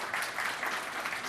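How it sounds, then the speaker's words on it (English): A brief burst of steady clapping from an audience at a young entrepreneurs' forum in Kazan, moderately loud and even, lasting only a moment. "And also would like to invite Syed Shahzad, applause please,"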